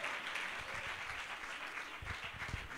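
A church congregation keeps up steady hand claps, a dense, even patter of applause that swells slightly toward the end, with no talk over it.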